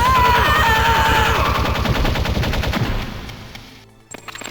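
Rapid automatic gunfire in Metal Gear Solid on PC, loud sustained bursts with music underneath for about three seconds, then fading out before a few sharp clicks.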